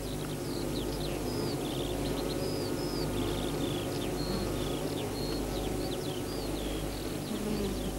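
Honeybees from a hive buzz in a dense, steady drone, with many high chirping tones darting over a constant low hum that fills the whole stretch at close range.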